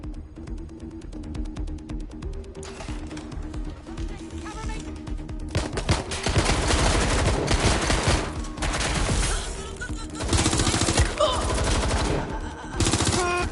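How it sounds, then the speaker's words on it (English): Enemy gunfire in a PS4 video game rattles in dense, continuous bursts, starting steady and swelling into a louder, chaotic fusillade with overlapping shots over a low throbbing backdrop. "They're shooting at us!"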